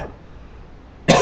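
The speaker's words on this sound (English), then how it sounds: "I'm having a terrible time with this cough that I've got going" A single sharp cough from a man who has a persistent cough, brief and close, bursting out after a stretch of near silence.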